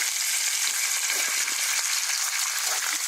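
Pieces of food browning in a hot pan before going into a slow cooker, giving a steady, dense close-up sizzle with faint light clicks and no voices.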